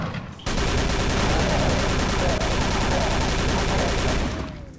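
Dense, loud, continuous shotgun fire from Call of Cthulhu: Dark Corners of the Earth, starting abruptly after a brief pause and sustaining for about four seconds before tapering off.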